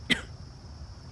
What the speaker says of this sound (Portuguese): Ele está tossindo muito.